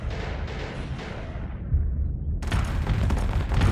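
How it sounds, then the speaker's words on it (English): Space combat in Starsector with missiles intercepting missiles: a rumbling barrage of deep booms and blasts, with a sharp burst of crackling explosions joining in near the end. "I just shot their missiles with my missiles."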